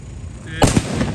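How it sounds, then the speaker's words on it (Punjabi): A sudden sharp burst of firecracker bangs during Gurpurab celebrations in Mohali, two or three loud cracks close by over a steady background hiss. "ਪਟਾਕੇ ਚਲਾ ਰਹੇ ਹਾਂ ਅਸੀਂ"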